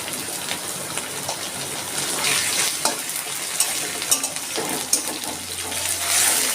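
Shrimp fry and sizzle loudly in a pan, with scraping stirs and clattering spatula strokes breaking through the hiss at irregular moments.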